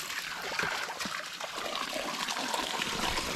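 Water runs from an irrigation hose laid out in a vegetable garden, a steady trickling, splashing flow that stays even and close throughout with no talking.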